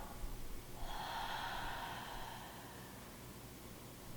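A single deep breath drawn in through the nose and released out through the mouth during a relaxation exercise, a soft airy rush that swells, holds steady and slowly fades, close and alone without talk.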